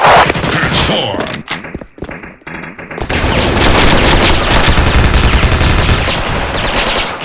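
A Prime FN FAL high-damage rifle fires in the Bull Soldier Front game on the Cafe Ex I map, sustained rapid shots with thumping booms, loud and close, after a brief choppy pause, with game voices mixed in.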